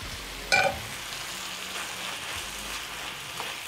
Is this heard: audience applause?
no